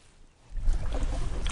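Paddle strokes from a kayak or canoe moving along a mangrove key on salty Florida Bay, quiet at first, then a louder wash of water splashing and swirling close by for the last second.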